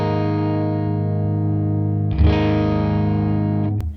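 Electric guitar through a Neural DSP Tone King Imperial MKII amp model with its attenuator engaged: a single sustained distorted chord rings, then a fresh strike brightens it before it cuts off abruptly, loud with no talking.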